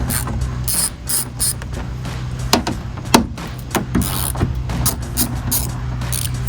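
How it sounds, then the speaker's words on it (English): A ratchet with a 10mm deep well socket backs bolts off a 2022-2024 Toyota Tundra fender, giving a continuous fast clicking of the pawl with a few sharper knocks, close and steady, with no talk. "first thing we want to do is remove our bolts. Using a 10mm deep well socket, just gives me a little bit more knuckle clearance when turning."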